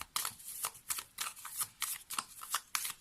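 Lenormand cards are shuffled by hand in a series of quick, papery riffles and slaps, roughly a dozen bursts in steady rhythm, close and fairly quiet with no talking.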